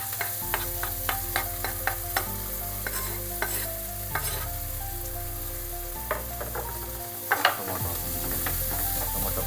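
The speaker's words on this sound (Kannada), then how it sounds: "ಟೊಮೊಟೊ ಫ್ರೈ ಮಾಡ್ಕೊಳ್ತಾ ಇದ್ದೀನಿ ಈಗ" Tomato fries with onion in a pan for egg sambar, giving a steady moderate sizzle broken by repeated sharp stirring clicks and scrapes of a spatula, with no voices.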